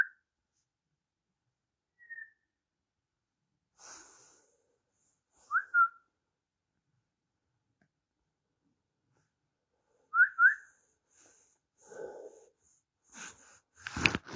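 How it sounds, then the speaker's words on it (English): Faint, short whistled chirps in a quiet room, a single note near 2 seconds and quick paired notes around 5.5 and 10 seconds, with soft breathing and rustling between them. "I heard a whistle. You hear that?"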